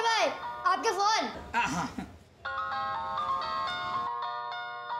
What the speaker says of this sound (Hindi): सुंदर भाई, आपके फोन।